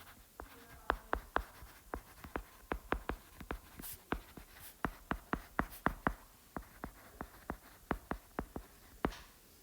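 Chalk or marker strokes on a board as an equation is written out, a quick series of sharp taps and short scratches in uneven bursts, close and fairly quiet with no talking.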